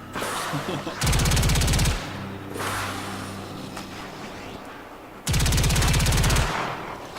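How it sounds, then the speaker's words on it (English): Rapid machine gun fire in the Warframe shooter game comes in two loud, sustained bursts of about a second each, separated by quieter in-game ambience. "the left mouse button is regular machine gun fire"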